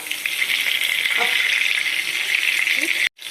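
Vanjaram fish fillets fry on a flat dosa griddle with a loud, steady hiss and crackle of oil that continues throughout, then drops out abruptly near the end.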